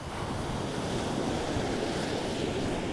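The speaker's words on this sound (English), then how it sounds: "waves on a beach" Steady waves washing onto a beach, a continuous broad surf roar with some wind noise, alone and without voices, used as background ambience for a game.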